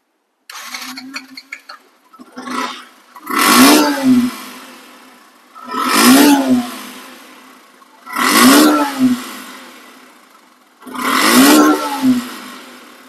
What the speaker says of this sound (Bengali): গাড়িটা এখন আপনাদেরকে স্টার্ট করে সাউন্ডটা শোনাবো শুধু